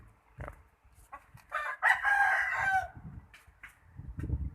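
At a free-range chicken yard, a rooster crows loudly in one long drawn-out call, with scattered clucks and short bird calls before and after.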